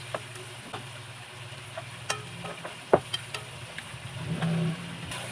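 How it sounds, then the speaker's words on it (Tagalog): Ingredients sautéing with curry powder in a pan for chicken curry: a faint sizzle under scattered spoon clinks and scrapes, with a low background hum. "Igisa-gisa natin ang kanyang mga sangkap."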